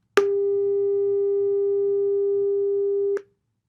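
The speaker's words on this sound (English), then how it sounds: "a sine wave of 400 hertz sounds like this" A pure, steady sine tone at 400 hertz sounds alone for about three seconds, starting and stopping with faint clicks.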